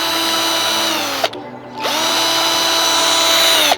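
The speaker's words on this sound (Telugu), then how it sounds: "దారం చుట్టాలంటే ఎలాంటి డ్రిల్ మిషన్ వాడితే సరిపోద్ది అనమాట" An electric drill winding kite string, a loud close whine that runs, cuts off briefly and spins back up with a rising pitch.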